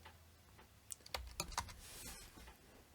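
Fingers tap out a quick burst of keystrokes on a computer keyboard, a cluster of soft, close clicks lasting about two seconds, faint and alone without talk.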